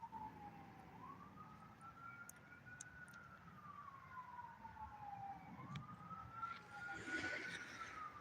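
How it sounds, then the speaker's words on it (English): A police car siren wails in slow rising and falling sweeps over a steady low traffic rumble, fairly distant and moderately quiet, growing a little louder near the end. "why would he turn the siren off when I call him out and then just start blaring it again?"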